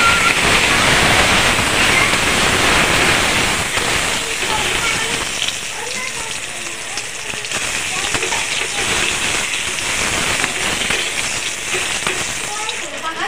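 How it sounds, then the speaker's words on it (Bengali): Eggplant fries in hot oil with salt and turmeric for a fish curry, giving a dense, steady sizzle and hiss that eases slightly after the first few seconds. A voice talks faintly underneath. "নুন হলুদ দিয়ে বেগুনটাকেও ভেজে নিয়েছি"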